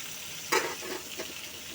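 Sponge gourd being added to onion and garlic frying in hot oil, with a steady, close sizzle, a sudden burst as the pieces drop in, then softer stirring scrapes.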